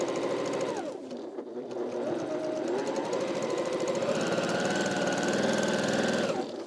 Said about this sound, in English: So I'm going to stitch on one side of the long part of the triangle.